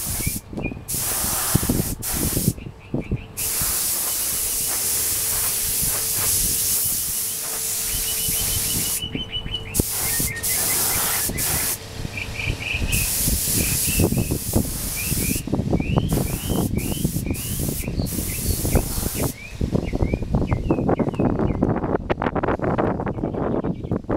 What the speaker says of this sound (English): the wind is really blowing out here